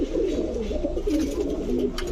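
Pigeons coo softly and continuously at close range, Budapest, Saharanpuri, racer and Giribaz birds kept together, their low rolling calls overlapping with faint background activity and no talk.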